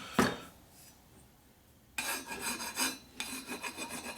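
A cutting tool is rubbed across a shovelhead motor case, giving a sharp scrape followed by quieter gap, then two bursts of repeated rasping strokes, close and fairly quiet.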